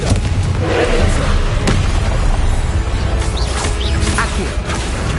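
Spell blasts and explosions from the Hogwarts Legacy video game, loud booms and crashing bursts rolling over one another through a dense, continuous wall of combat noise.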